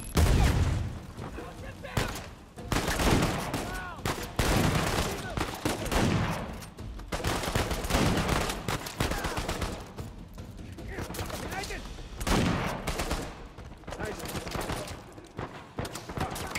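Shotgun blasts and gunfire in Uncharted 4: A Thief's End crack out in loud, dense, repeated bursts across the whole stretch, with a voice heard at times between the shots.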